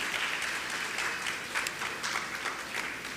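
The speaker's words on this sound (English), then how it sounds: "Kindly give the school a clap for the effort." A primary school graduation crowd claps for a school that won a garden competition, a soft, even wash of applause that keeps going throughout.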